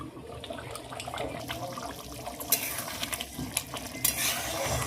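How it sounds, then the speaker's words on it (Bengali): Pea ghugni stirred with hot water in a pot, a wet sloshing churn with clinks and scrapes of a spoon against the metal, a few sharper knocks toward the end, close and without talk. "জল দিয়ে খুব ভালোভাবে মিশিয়ে দেবো।"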